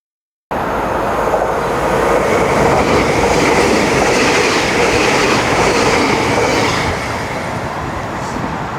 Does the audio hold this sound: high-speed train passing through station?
yes